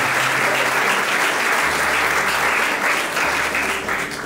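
A room full of guests at a civil wedding ceremony bursts into loud, sustained applause, with dense clapping that carries on steadily from start to finish.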